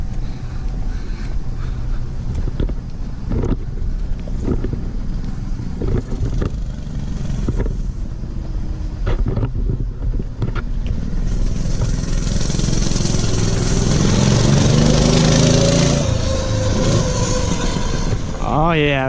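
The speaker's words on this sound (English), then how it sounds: "I hear some backfires in there." A Mega Moto 212cc minibike engine runs and revs, its rough motor drone rising as the bike approaches, with intermittent sharp backfire pops and wind buffeting the microphone; brief talk nearby.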